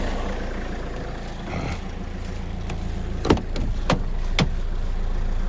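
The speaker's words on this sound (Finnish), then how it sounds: "Moottori käy helvetin sievästi" A car engine idles steadily, a low continuous rumble with a few sharp clicks and knocks near the end and no one speaking.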